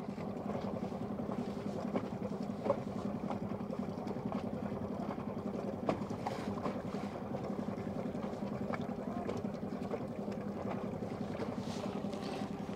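A boat reversing stern-first into the wind toward a mooring buoy, its engine giving a steady low drone with wind and water noise throughout, constant and moderately close with no talk.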